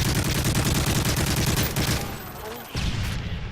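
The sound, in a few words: gunfire in a capture-the-flag video game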